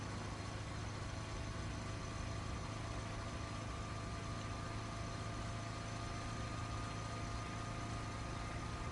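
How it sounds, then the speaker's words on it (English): A car engine hums steadily at speed on a winding mountain road in Raging Loop, a faint, unbroken low drone with no change in pitch. "I just kept on driving, not lowering my speed for a moment."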